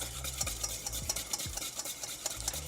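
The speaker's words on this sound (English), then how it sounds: "So I want to add my warm sauce to my egg yolks." Warm sauce is stirred into egg yolks for a lemon ricotta soufflé, with steady, close scraping and swishing strokes of a utensil against a bowl in a quiet kitchen.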